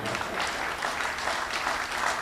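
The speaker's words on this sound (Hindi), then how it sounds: "सर हंसने से काम चलेगा, ताली वाली बजाने पड़ेगी" An audience at a Hindi comedy poetry recital claps steadily in a dense, even burst of applause that holds at a moderate level throughout.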